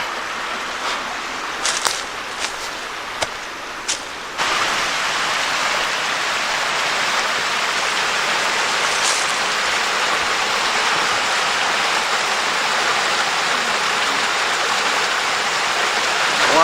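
A small woodland stream tumbles over little waterfalls in a steady, close rushing wash. After a few faint taps at the start, the flow swells louder and stays even, with no voices.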